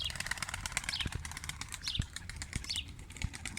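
Pigeons flapping their wings in flight, a soft rapid fluttering that runs steadily throughout over faint chirps, with a few sharp low thumps mixed in.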